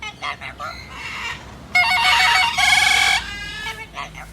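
A parrot imitates an old-fashioned telephone, giving bursts of rapid, metallic trilling rings between short chirps, loud and close.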